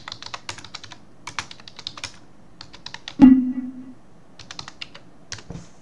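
Typing on a computer keyboard: quick clusters of light, crisp key clicks tapping close by, pausing briefly, then one louder thump with a short ringing tone before the rapid tapping resumes.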